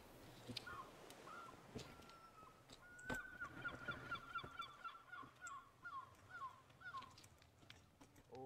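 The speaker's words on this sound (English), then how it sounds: "I want to kill that bird" A goose-like bird honks repeatedly in a video game, a string of nasal calls in quick rhythmic bursts, moderately close against faint background noise.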